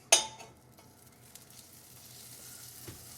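Stirred eggs for an omelet hit a hot cast iron skillet with a sharp clink, then settle into a soft, steady sizzle that gradually builds, close by and with no talking.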